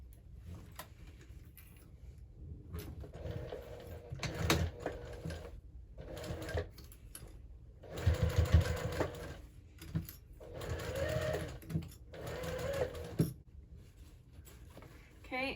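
Sewing machine basting a zipper into a hobo bag, with short bursts of rapid mechanical stitching that stop and restart, and a person speaking quietly between the runs.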